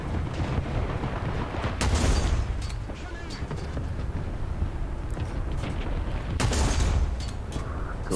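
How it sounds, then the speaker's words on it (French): A tank fires an APFSDS dart shell in War Thunder, a sharp booming blast with a rumbling tail, heard twice several seconds apart over steady engine rumble, with someone talking faintly in the background. "Tu tires un obus flèche."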